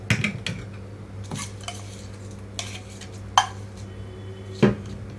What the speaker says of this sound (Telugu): ఇక్కడైతే ఇప్పుడు నేను తాలింపు మొత్తం కలిపేస్తాను